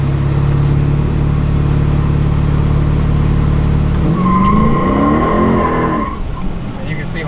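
A Dodge Charger Scat Pack 392 V8 revs hard on the trans brake with a loud, sustained engine roar, then drops into tire squeal and a fading rev as people talk nearby.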